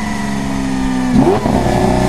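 A Lamborghini Aventador engine holds a steady drone, then blips sharply upward on a downshift in a brief loud rev close to the car, and settles back to a lower hum.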